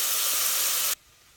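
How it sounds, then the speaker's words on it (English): Onion sizzling hard while sautéing in a pan over high heat for borscht: a loud, steady, bright hiss lasting about a second before cutting off abruptly to near quiet. "I probably have it on way too high because it's really like sizzling."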